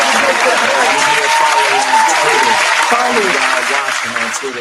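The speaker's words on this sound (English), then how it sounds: "Big clap." Loud, dense applause fills the whole stretch, steady clapping from a crowd with a voice faintly mixed underneath, tapering slightly at the end.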